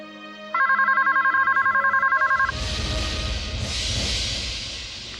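An electronic telephone ringtone trills rapidly in a pulsing burst for about two seconds, then gives way to a louder rushing, rumbling noise.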